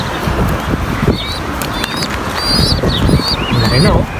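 A large bird calling among other birds, short honking and chirping calls repeating over a noisy background while someone talks nearby.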